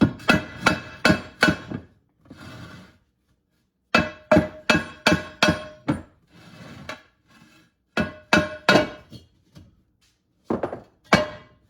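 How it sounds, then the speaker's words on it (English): Repeated sharp metallic hammer blows knocking the barrel off a Work Equip Anhelo during restoration teardown, delivered in rapid bursts of four or five strikes separated by pauses, loud and close with ringing clinks. "we'll go ahead and try and break off this barrel now"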